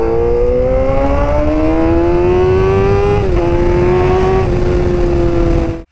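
A motorcycle engine revs hard and holds a loud, close, droning whine that climbs slowly, dips slightly midway, then cuts off abruptly at the end, with no talk over it.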